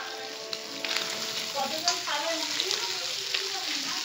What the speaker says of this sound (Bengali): ভাজা হচ্ছে ইলিশ মাছের মাথা দিয়ে